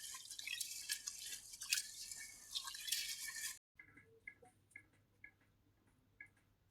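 Water rinsing food for a chicken biryani and payesh meal: a rushing broadband wash for several seconds, then a pause and a run of soft drips and small splashes, quiet and fairly close.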